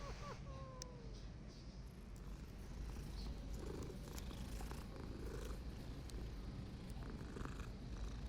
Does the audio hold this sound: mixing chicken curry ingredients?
no